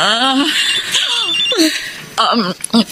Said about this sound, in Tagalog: Sandali, may tumatawag sa cellphone ko.